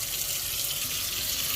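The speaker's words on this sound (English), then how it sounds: "You're going to go ahead and rinse one more time." Tap water runs steadily into a kitchen sink to rinse out a garbage disposal, a continuous broadband rush heard close and alone with no voices.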